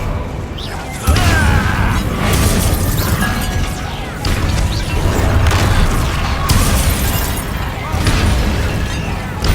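An Incendio fire spell in Hogwarts Legacy whooshes out in a loud booming burst, followed by rumbling blasts and crackles in a heavy battle mix, with voices shouting over it.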